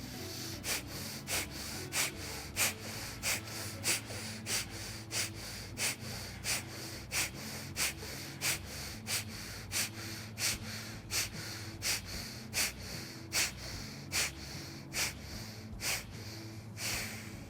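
Forceful bhastrika pranayama breathing done through one nostril at a time with a yoga danda, heard as a steady, rapid series of sharp, close nasal snorts and exhalations, about two per second, with no talk.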